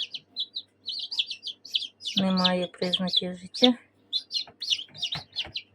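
High, thin peeping from several newly hatched goslings repeats in quick bursts, close by, while a person speaks briefly in the middle.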